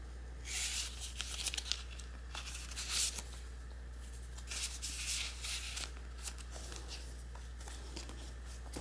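Vintage papers, botanical tags and children's book pages crinkle and rustle in close handling, a steady run of soft crackles and swishes with a few sharper snaps, no talking.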